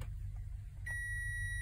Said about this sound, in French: je vais me mettre en ohmmètre en contrôle de continuité, donc ça va biper